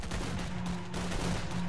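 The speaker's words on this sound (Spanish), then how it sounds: "se escuchan mogollón los tiros" Distant gunfire in the video game Stalker Clear Sky comes as a few muffled shots over a steady rumbling background, with no voices.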